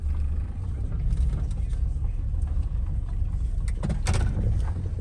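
A Chrysler 300 with a faulty drivetrain drives along with a steady low engine rumble and road noise throughout, and a few rattling knocks come near the end.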